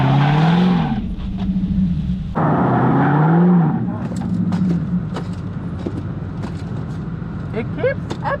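A car engine revs loudly and then rises in pitch as the faulty transmission upshifts, with tire noise and scrapes under a person's talking.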